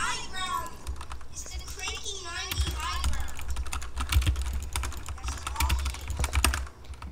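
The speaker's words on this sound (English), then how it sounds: "Do you hear my keyboard?" Rapid clattering keystrokes on a computer keyboard during a Fortnite battle royale session, dense and close, running under a child's excited speech throughout.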